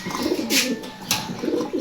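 Pigeons of a running breeding pair kept in a coop, nesting on eggs, cooing in low soft repeated calls, with a couple of brighter bursts of higher fluttering or chirping sounds and no talking.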